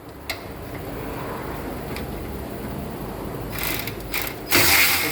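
Ratchet wrench loosening the rear transmission pan bolts on a 1994 vehicle, a few scattered pawl clicks at first, then a denser burst of fast ratcheting near the end, close and fairly loud over a steady background hiss.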